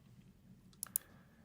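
A pair of sharp mouse clicks close together near the end of an otherwise quiet stretch, made while moving through a web cloud console's menu; clean and close, with no talking.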